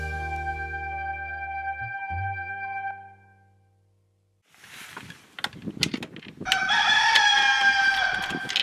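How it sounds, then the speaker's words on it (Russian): A rooster crows in the morning in Turkey, one long loud call, followed by a short silence, then clucking, rustling and another strong crow-like burst close by. "Утро следующего дня началось с петушиного клича."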